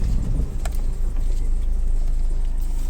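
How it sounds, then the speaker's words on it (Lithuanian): A car driving on a road, heard from inside as a steady low engine and road rumble with a faint jingle early on, with no talk. "Važiuojam su mašina."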